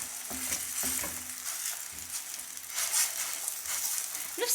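Msemen flatbread frying in oil in a pan, with a steady soft sizzle broken by a few scraping stirs and utensil knocks at close range.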